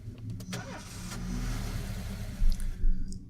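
A police car in This Is The Police, one that never starts, turns over and revs with a low rumbling drone. Two throttle swells come near the end, close and fairly loud.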